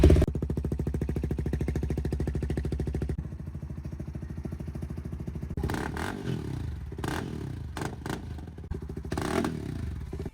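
CFMOTO 300NK motorcycle fitted with an aftermarket exhaust, first idling with a loud, close, rapid rumbling burble, then revving and blipping in sharp bursts.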